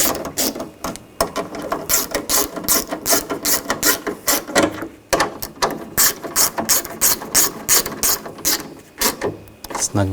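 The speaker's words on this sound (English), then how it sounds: "we're going to put all the bolts in and snug these down" Ratchet wrench snugging down door bolts on a 2000-2006 BMW X5 during a front window motor and regulator job, a steady, loud run of rapid clicking bursts in close succession with brief pauses between strokes.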